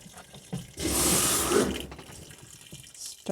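Cold water rushes into an off-grid washing machine as it starts filling, a loud steady gush that swells in and then eases into a lower trickling flow.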